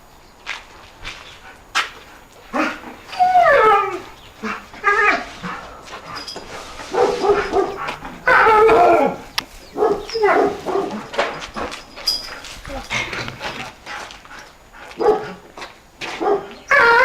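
A dog barks and yips repeatedly in short, irregular bursts at close range, with whimpers in between and some footsteps; no one speaks during the barking.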